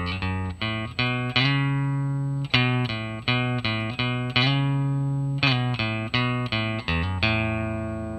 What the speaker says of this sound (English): And then you're at the guitar solo, which sounds like this